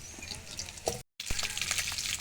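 Potatoes frying with browned onions in a pan give a steady, close sizzle with light stirring scrapes, cut by a brief silent gap before the frying resumes.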